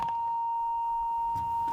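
An alarm sounding as one steady, continuous electronic beep tone held at an even level, with faint background noise and no talking.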